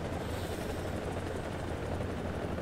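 Steady, loud rotor thrum and engine roar of an AH-1Z Viper Cobra attack helicopter in the War Thunder video game, continuous and close with no pauses.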